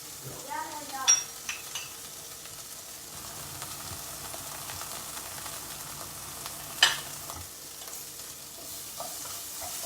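Vegetables sizzle and are stirred in a pan as a stir-fry cooks in a home kitchen, a steady low frying hiss with a few brief clinks and scrapes near the start and once midway.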